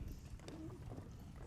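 Hooves of a horse at a Waldorf school clip-clop steadily in a close, low-level rhythm, with a faint murmur of voices in the background.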